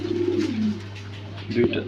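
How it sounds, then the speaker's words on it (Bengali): A pair of Kagzi pigeons cooing softly at close range, a couple of low rolling coos in a quiet indoor setting with a voice speaking nearby. "তারপর এখানে আছে একজোড়া কাগজি কবুতর"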